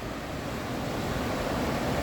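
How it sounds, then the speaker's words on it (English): A raging river at Kildoo Falls in McConnells Mills State Park, Pennsylvania, heard as a steady, fairly quiet rushing roar of water that holds even throughout, with no voices. "The river is raging"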